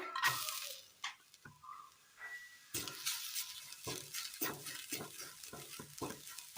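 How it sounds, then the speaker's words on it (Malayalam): Grated coconut roasting in the same pan used for sautéing, for an okra curry, with a spatula scraping and stirring in irregular bursts over a soft sizzle, close and fairly quiet. "വഴറ്റിയെടുത്ത അതേ പാനിലേക്ക് തന്നെ നമ്മൾ തേങ്ങ ഇട്ട് കൊടുക്കുകയാണ്."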